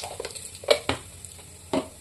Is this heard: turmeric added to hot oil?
yes